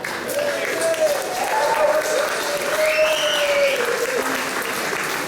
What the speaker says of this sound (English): Applause for the audience.